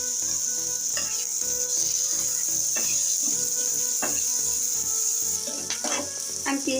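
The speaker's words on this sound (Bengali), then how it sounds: "আমি পেঁয়াজটা একটু হালকা করে ভেজে নিয়েছি।" Onions and chopped green chilies fry in a generous amount of oil, a constant bright sizzle with periodic scraping and knocking from stirring against the pan, close and loud, with no talk.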